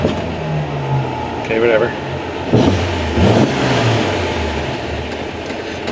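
An old classic car that has sat unused turns over and its engine catches again, a low rumbling idle with short revving swells, close, with someone speaking briefly over it.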